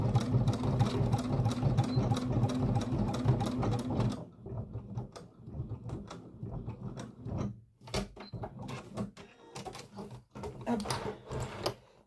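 A domestic sewing machine stitches fabric, its fast steady rattle loud and continuous for about four seconds, then broken into shorter stop-start runs with clicks and handling noise. Faint talk may sit underneath.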